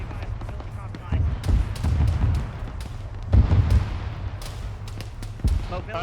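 Gunfire in a military video game, several loud broadband bursts at irregular intervals over a low steady rumble, with people talking in the background.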